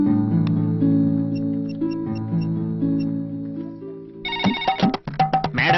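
An outgoing phone call rings on the line, with a short burst of bright, pulsing electronic ringing near the end, after a few seconds of sustained tonal sound with no voices.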